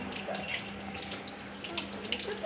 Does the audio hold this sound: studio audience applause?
no